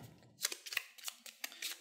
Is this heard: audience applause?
no